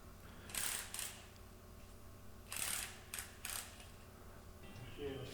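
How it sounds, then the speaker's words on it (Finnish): Someone works on a Saab 96 V4 engine during a clutch replacement, removing the flywheel with a few sharp metallic clicks and rattles in short bursts, close by against a quiet background. "Sitten vauhtipyörä pois."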